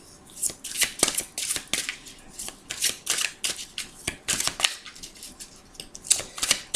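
Tarot cards being shuffled by hand close up, a rapid series of crisp riffling and slapping bursts repeating throughout, with no talking.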